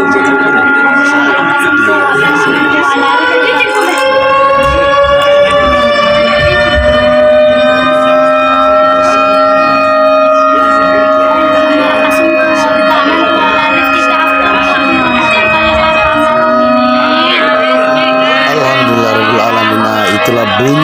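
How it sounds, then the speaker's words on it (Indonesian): Civil defense style siren sounding to signal the time to break the fast at a mosque in Indonesia, with long sustained wailing tones that hold steady across the whole stretch, loud and continuous, with some background voices. "Kalau kita dengarkan bunyi sirine, ini salah satu kekanginan kita kalau sudah mau buka puasa."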